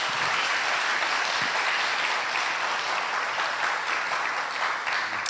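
A church congregation applauds together after a closing prayer, a steady, dense wash of clapping that fills the room from start to finish with no voices on top.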